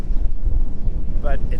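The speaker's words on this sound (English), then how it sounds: "It's pretty windy up here" Wind blows hard across a hilltop plateau in Gozo, Malta, a loud continuous rumble on the microphone, with a voice briefly heard through it.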